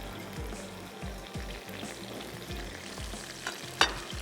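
Onion fries in a little hot cooking oil alongside okra for dahi bhindi, a soft steady sizzle with repeated stirring scrapes and a sharp clatter near the end.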